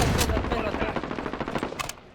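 Semi-auto sniper rifle fire in the video game Call of Duty Warzone, a loud rapid burst of cracking shots in quick rhythm that tails off after about two seconds.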